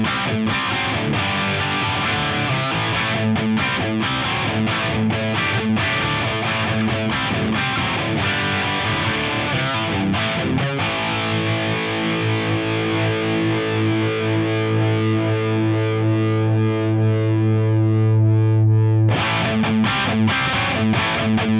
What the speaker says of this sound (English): Let's have a listen to where I've got this Eldorado 100 set. This is a Les Paul Custom with burst buckers.